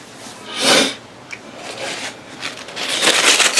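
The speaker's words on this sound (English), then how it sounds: "Sorry, I'm sniffling." A person with seasonal allergies sniffles, with a couple of sharp, breathy nasal inhalations, one early and a longer one near the end, plus soft rustling in between, close and without talk.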